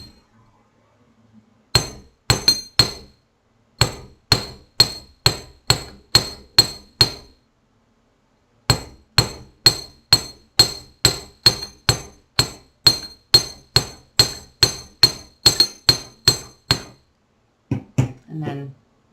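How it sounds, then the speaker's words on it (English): A small hammer taps a wire spiral earring resting on a metal bench block, sharp ringing clinks in quick, regular bursts with a short pause midway, close and clear. "And then carefully hammer to your liking"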